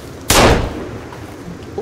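A single loud gunshot cracks in the Sons of the Forest game, a sharp close blast that decays quickly into the low background ambience.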